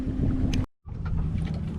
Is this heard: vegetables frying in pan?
no